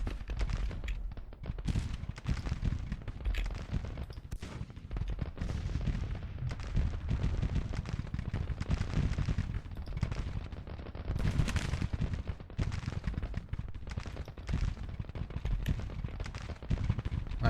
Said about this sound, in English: a furious firefight happening right now as the Federals are trying to stage some sort of rear guard action